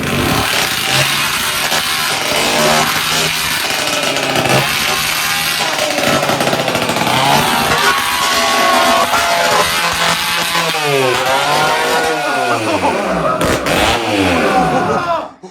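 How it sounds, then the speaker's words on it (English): A 79cc F-80 petrol bicycle engine roars loudly and continuously up close, revving hard with rising and falling pitch toward the end. "The engine is powerful like a monster. Did you see this? So loud."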